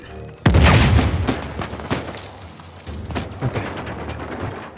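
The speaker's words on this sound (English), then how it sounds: "he's like stumbling and shooting me at the same time" Enemy gunfire in Uncharted 4: a sudden loud blast is followed by scattered sharp shots and impacts that fade and flare unevenly, and one voice speaks briefly.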